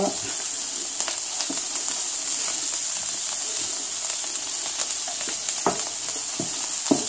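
Parsley and garlic frying in a pan for paella, a steady loud sizzle and hiss throughout with small crackles and the occasional scrape of stirring. No talk.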